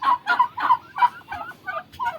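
Poultry on a farm call out close and loud in a run of about eight rapid gobbling bursts, with no voices over them.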